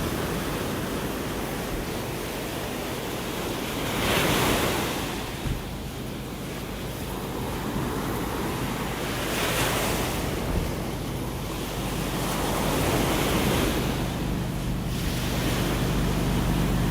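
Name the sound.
ocean waves on beach in North Naples, Florida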